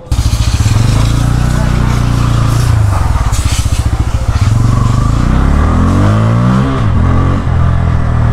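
A motorcycle engine idles and revs with a steady low rumble, rising and falling in pitch as the throttle opens, with a voice talking over it.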